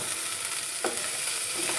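Onion frying slowly in a pan with ginger, garlic and green chili for chicken butter masala: a close, even sizzle with a couple of brief scraping stirs, and no voices.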